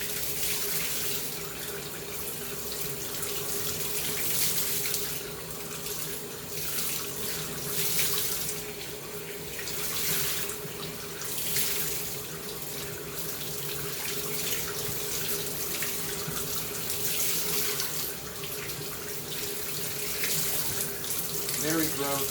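Tap water runs steadily into a sink while a Bissell PowerForce Compact vacuum filter is washed and squeezed under it, a close, continuous splashing gush with shifting surges and no speech.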